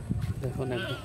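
A goat bleats briefly, a short wavering cry heard under a person speaking nearby.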